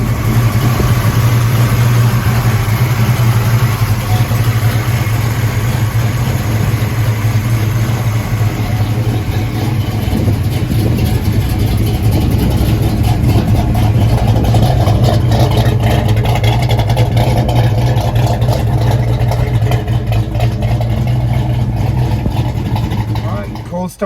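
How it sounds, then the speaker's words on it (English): A 1970 Chevrolet Chevelle SS with a 450-horsepower 454 V8 runs steadily, a deep, loud, continuous rumble heard close up throughout, with someone talking over it. "It's got a 450 horsepower 454 in it, and she sounds mean."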